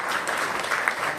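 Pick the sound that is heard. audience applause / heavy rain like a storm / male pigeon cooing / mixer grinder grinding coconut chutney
audience applause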